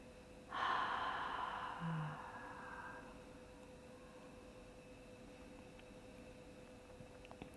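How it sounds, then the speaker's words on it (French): A breathy exhale through the mouth during a yoga breathing exercise, one soft rushing breath that fades after a couple of seconds, then quiet room tone. "Expirez par la bouche."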